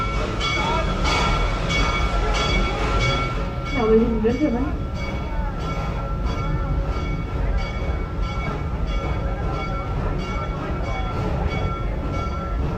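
A theme park train ride at Busch Gardens Tampa rumbles and clatters steadily along the track while an announcer's voice speaks over the rolling carriages.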